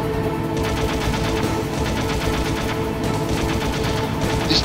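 Gunfire from a weapon in the PlayStation game Metal Gear Solid rattles out as rapid, continuous automatic bursts, loud and unbroken throughout.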